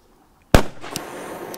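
A single sharp smoke ring firecracker bang, loud and close, followed by a crackling hiss and a faint pop as it fades.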